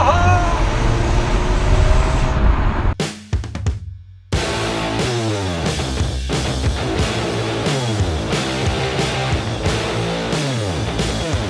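A Jaguar XE R-Sport 240 on the road: engine tone rises and falls in repeated sweeps as it pulls through the gears, steady and fairly loud under a constant drone of road noise.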